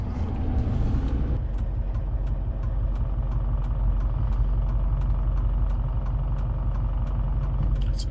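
A Duramax diesel truck with hydro-boost power steering grinds out a steady, loud rumbling engine drone with the brake held down, joined by faint regular ticking that repeats roughly every half second.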